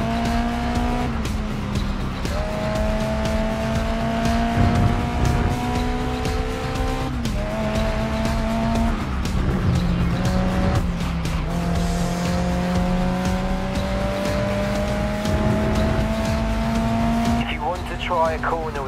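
A race car in GRID Legends screams through its gears, its engine whine climbing and dropping as the tires squeal repeatedly through slides. The sound is loud and continuous, with talk over it.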